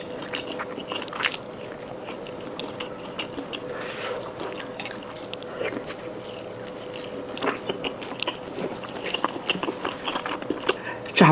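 Crispy fried chicken cutlet being bitten and chewed up close, with sharp crunchy bites scattered over a faint background during a mukbang meal of skewered fried foods.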